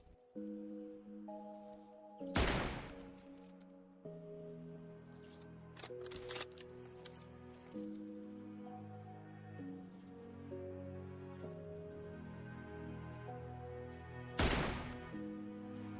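Two sharp rifle shots ring out in a video game, one early and one near the end, each a loud sudden crack over a background of steady game music and ambience.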